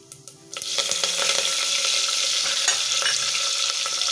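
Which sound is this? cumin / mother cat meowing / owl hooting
cumin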